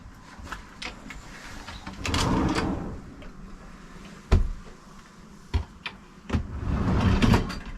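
Drawers are opened and closed in a caravan kitchen, producing a series of sliding rumbles and sharp knocks, several distinct thuds spaced irregularly across the clip.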